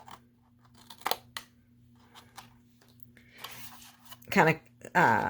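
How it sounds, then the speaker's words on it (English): Small paper snips trim the edge of cardstock for an Easter treat box, giving a few sharp close cuts spaced apart, with someone talking softly around them. "So you want to take your snips and just"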